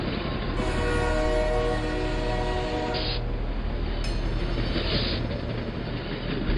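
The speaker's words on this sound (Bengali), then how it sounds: "দুরন্ত গতিতে ট্রেন ছুটে চলেছে" A train rumbles along steadily at speed at night, heard from inside a carriage, a loud continuous roar with a horn-like tone sounding briefly, no voices.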